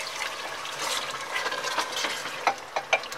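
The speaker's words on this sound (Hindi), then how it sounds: "तो अब इसमें हम पानी ऐड कर देंगे।" Water is poured into a simmering chicken korma in a pan, a soft splashing and sizzling that rises into a few short bursts toward the end.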